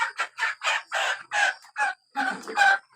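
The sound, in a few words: rooster clucking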